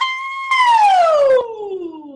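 As a vocal warm-up, a single human voice imitates a siren: a held note, then a long, smooth downward swoop that fades out. It is close and clear, with no other sound.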